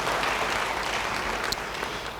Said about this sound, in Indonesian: Siapa yang rindu, beri tepuk tangan bagi dia